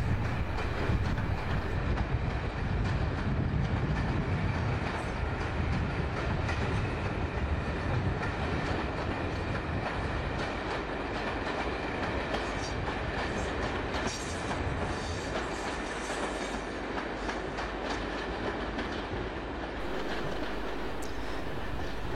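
British Rail class 86 electric locomotive hauling a 1980s commuter train to Northampton, a steady, loud rolling rumble of wheels on track with faint clatter throughout and no pauses.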